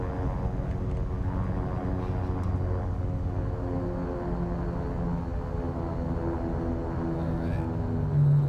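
Steady drone of an airliner's engines spooling for takeoff in the X-Plane 11 flight simulator, a continuous loud hum with layered tonal whine and no voices.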